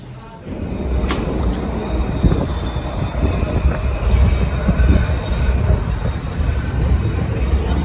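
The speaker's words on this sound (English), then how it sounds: "Just in time to catch the end of that train. Noisy as all get out, aren't they?" A freight train rumbles past, heavy low rolling noise with wheels squealing and screeching, loud and continuous, plus a brief sharp high squeal early on.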